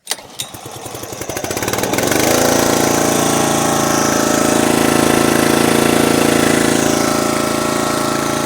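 A small engine, choked for cold starting, sputters through a couple of rough pulls, then catches and roars into a loud, steady running drone up close, with no voices.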